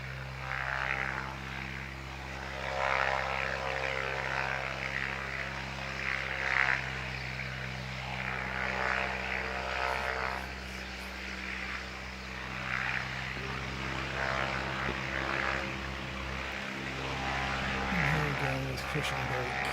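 A propeller aircraft taxis at a Canterbury aero club airfield in strong winds, its steady engine drone running close and continuous throughout, with a voice speaking over it.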